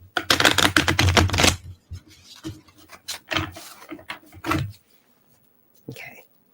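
A deck of tarot cards being shuffled close up, a fast riffling burst for about a second and a half, then several short separate snaps and flutters as the cards are cut and tapped.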